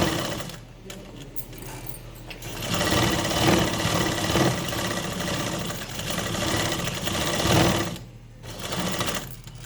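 Sewing machine stitching a cloth face mask, its needle chattering in a fast steady rhythm that rises and falls in bursts, close and moderately loud, with brief pauses between runs.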